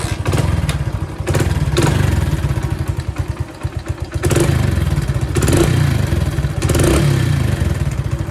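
A Hero Splendor motorcycle engine with a misfiring problem runs steadily at idle nearby, a loud continuous rumble with slight surges and dips.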